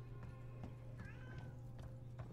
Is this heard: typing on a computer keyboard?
no